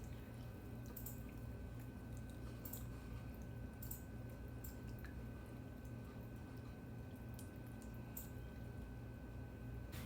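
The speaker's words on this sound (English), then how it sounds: "pour the egg mixture over the top of the bagels" Beaten egg mixture pours over everything bagels in a baking dish for a cheesy breakfast bake, giving a soft, continuous liquid squish and drip with faint splashes, steady and close, with no talking.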